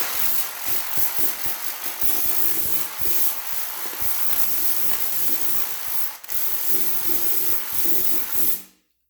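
A Tornador air tool blasts compressed air into a buffer polishing pad, a loud steady hissing rush with rattling and flutter that runs continuously before cutting off abruptly at the end.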